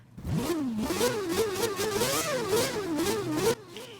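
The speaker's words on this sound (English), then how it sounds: "Now this is it revving." A rotary engine in a Nissan Silvia S14 in Forza Horizon 3 revs repeatedly, pitch rising and falling in quick waves, loud and close, then cuts off abruptly near the end.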